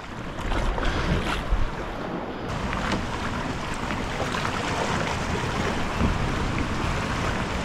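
Kayak out on open water near an island, with steady wind buffeting the microphone and lapping waves; paddle strokes are faint within the continuous outdoor wash, and no one speaks.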